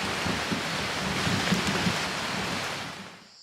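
Heavy rainforest thunderstorm rain heard from inside a small house, a dense, loud, continuous roar of rainfall that fades out at the very end.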